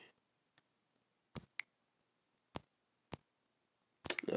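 Computer keyboard tapped in a few sparse, isolated clicks spread over several seconds, faint and close, followed by a quick burst of rapid keystrokes at the end.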